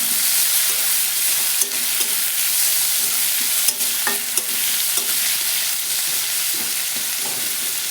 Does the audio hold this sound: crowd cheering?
no